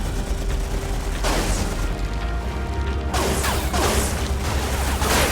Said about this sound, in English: Oh, and I'm getting shot at?